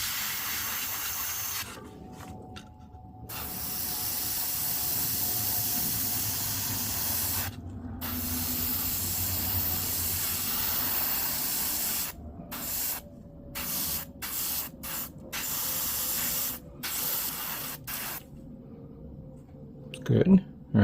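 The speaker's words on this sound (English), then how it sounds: "I'm going to spray the inside of this." A Gaahleri GHAC-98D airbrush sprays paint in a steady, close hiss that runs in long bursts, with several brief pauses toward the end and a faint knock at the close.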